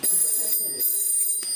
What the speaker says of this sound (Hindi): अरे फोन आया